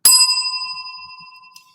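A single bright bell ding rings out with a sharp strike, then a clear tone decays slowly over more than a second, with a faint second tap near the end.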